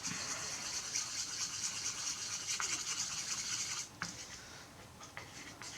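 A paintbrush stirs green and yellow paint together for dot painting on a wood slice, making a steady soft scrubbing swish that continues for several seconds before it turns into lighter, broken strokes.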